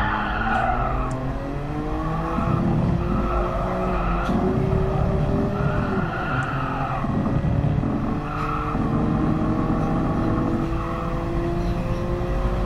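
A Nissan Skyline GT-R R33 2.6 24V biturbo in GT Sport fishtails with wavering tire squeals over a strained, rising and falling engine note, loud and continuous from the interior view.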